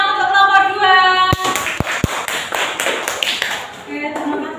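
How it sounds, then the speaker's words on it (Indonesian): Classroom applause for a student group: a few sharp hand claps and taps break in over a faint held tone, followed by scattered, uneven clapping and light shuffling that dies down toward the end. "Tepuk tangan untuk kelompok 2."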